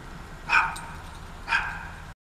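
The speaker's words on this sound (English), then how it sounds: "There they are. The neighbor dogs." Several neighbourhood dogs bark from some distance in two short separate bursts about a second apart, moderately faint over a quiet outdoor background.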